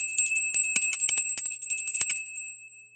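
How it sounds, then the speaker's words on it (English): A solar plexus bell rung during an energy-cleansing reading, giving a bright, sustained metallic ring with several quick tinkling strikes that fade out over a few seconds, with no talking. "we're going to ring the solar plexus bell."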